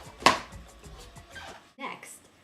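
A knife chops butternut squash into large chunks on a cutting board, with a few sharp thuds spaced irregularly and a person talking quietly in between.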